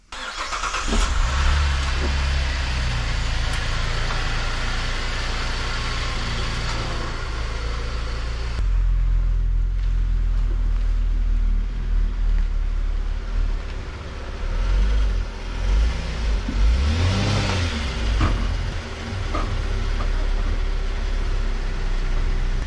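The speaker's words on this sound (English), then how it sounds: "I'm going to back this car into the other side" A 2013 Chevrolet Equinox engine runs steadily at low idle while the car reverses, with a shift partway through and a brief swell of revving as it maneuvers; no talking.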